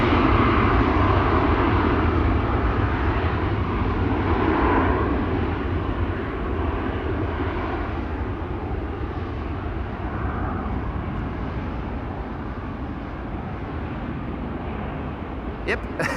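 Helvetic Embraer E2 jet at the airport, a sustained broad engine rumble that slowly fades over about sixteen seconds, with a brief click near the end.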